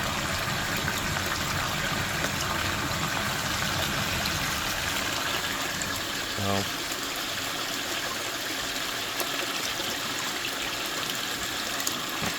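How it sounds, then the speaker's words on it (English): Steady water runs and washes material along in a basement gold panning setup, a continuous even rushing with no pauses and no voices. "I'm really just letting the water wash it in"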